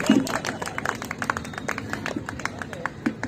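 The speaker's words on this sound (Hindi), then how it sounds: "समझ में आती है तो ढंग की ताली बजाओ भाई" An audience claps at a Hindi comedy poetry show by Shashibhushan Snehi, a dense patter of applause that carries on steadily at moderate loudness with voices faintly mixed in.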